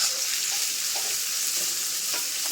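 Fresh onions fry in hot oil and are stirred, giving a dense, loud, continuous sizzle with soft scraping and stirring touches throughout.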